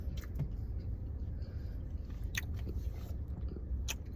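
Crunchy snack flakes being bitten and chewed inside a car, close and fairly quiet, with sharp crisp crunches at irregular intervals over steady chewing and no talking.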